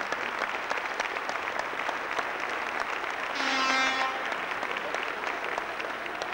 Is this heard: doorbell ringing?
no